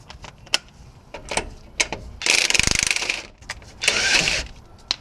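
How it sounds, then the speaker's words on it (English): A ratchet wrench with a 21 mm socket works a bolt on a Ford F150 front wheel bearing, giving two dense bursts of rapid clicking between sharper single clacks and knocks, close and fairly loud with no talk. "Let me find the right socket for that. Actually the same as lug nuts"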